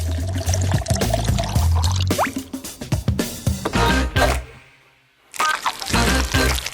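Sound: pouring blended mixture into a bowl

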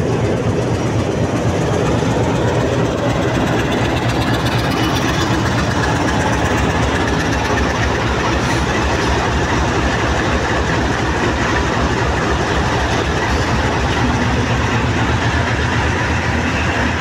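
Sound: coupled diesel locomotive engine idling

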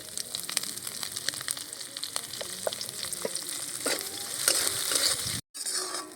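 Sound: onion and green chilli frying with cumin and bay leaves

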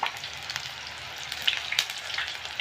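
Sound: badam puri frying in oil on low flame

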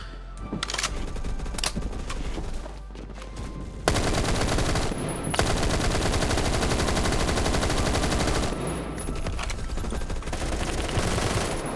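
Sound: HAMR IAR gunfire in video game Phantom Forces

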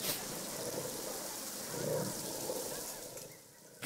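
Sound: rain in video game Planet Zoo

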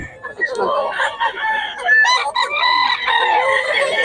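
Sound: stag, a young gamecock rooster, crowing

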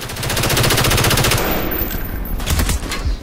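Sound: gunfire in a video game (Call of Duty Black Ops)

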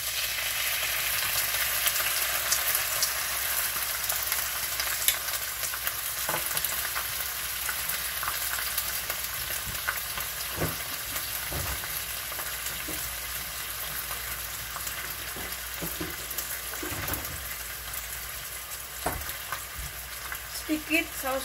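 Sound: stir-frying bok choy with chicken broth in a pan

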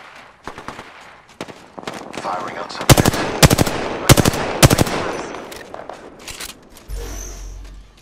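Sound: gunfire in the video game Apex Legends

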